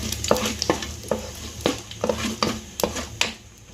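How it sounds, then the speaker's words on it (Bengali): Whole spices—bay leaf, two dry chillies, cumin seeds and three cloves—sizzle and crackle in hot oil, with repeated sharp stirring scrapes against the pan at an uneven rhythm, close and clear, no voices. "ওই তেলের মধ্যে আমি তেজপাতা দিয়ে দেবো, 2টো শুকনো লঙ্কা, গোটা জিরে, 3টে লবঙ্গ,"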